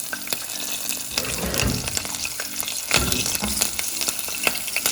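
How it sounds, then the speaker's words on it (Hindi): Green chillies and curry leaves frying in hot oil for Indian kadhi pakora, a loud, close, continuous sizzle and crackle with stirring clatter and sharp pops throughout. "हमने हरी मिर्चें डालनी है, इसमें हमने कड़ी पत्ता डालना है"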